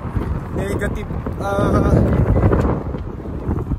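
Wind roars and buffets a microphone outdoors in freezing Canadian winter cold, about minus 15, a steady low rumble with gusts, while a person speaks over it.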